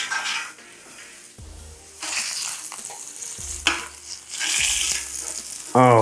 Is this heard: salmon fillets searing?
yes